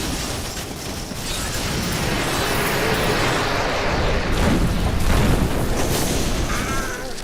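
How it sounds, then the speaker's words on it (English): Explosions in the action role-playing game Diablo 3 make dense, continuous booming and crackling bursts, loud throughout, with combat effects layered on top and no speech. "we don't want to get stuck in one of those explosions"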